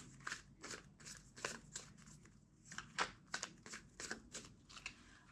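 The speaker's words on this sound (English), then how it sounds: "Two more shuffles." Soft, close shuffling of a tarot card deck in repeated short riffling bursts, quiet and steady, with no talking.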